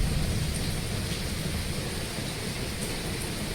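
Steady rain pours through a dark monsoon night, a dense, even hiss that holds from start to finish, with no clear thunderclap standing out above it.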